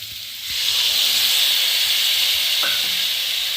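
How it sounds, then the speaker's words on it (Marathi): Water poured into a pan of cooking raw mango sets off a loud, steady sizzle and hiss that starts abruptly and continues without break, close up, with no talking. "आता यात आपल्याला अर्धी वाटी पाणी घालायचं"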